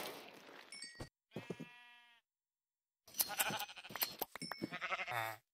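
Sheep in the Minecraft video game give several short, tonal bleats in quick succession, with other clicky game sounds before and after.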